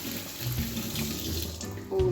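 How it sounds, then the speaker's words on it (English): Tap water running steadily into a sink as drained chickpeas are rinsed in a colander, a close, soft continuous gush with a small clunk near the end. "I like to just give them a bit of a rinse with some water"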